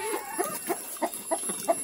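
A chicken clucks in a quick, even series of about six short clucks, close and fairly clear, with no talk over it.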